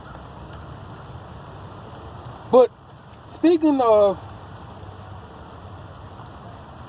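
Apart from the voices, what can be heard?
rain falling outdoors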